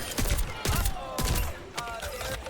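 Rapid three-round bursts of gunfire in the shooter game Overwatch, loud and close, with four clusters of shots and a ringing tail after each burst.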